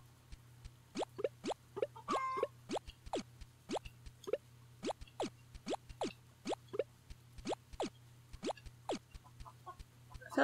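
Chickens in the farming video game Gleaner Heights cluck in short, evenly spaced bursts over a steady low hum, repeated many times across the scene with one brief flurry of higher squawks.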